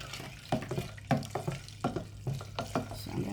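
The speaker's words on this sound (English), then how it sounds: "So I'm going to be stirring this around." A spoon stirs a pink Easter punch made with canned fruit cocktail, giving soft liquid swishes and light clinks against the container in an uneven rhythm, close and fairly quiet.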